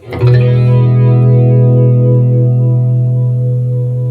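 A single sustained electric guitar note through a chorus pedal rings out with a shimmering, wavering chorus effect, loud and clear, slowly decaying without any voices.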